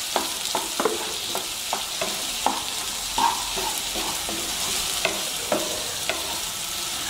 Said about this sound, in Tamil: பீன்ஸு இது நல்லா வதங்கணும்.